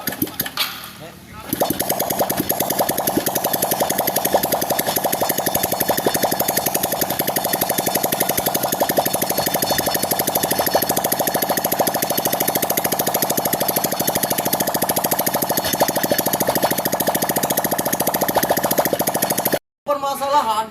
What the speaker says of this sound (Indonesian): sekarang untuk motornya kita hidupkan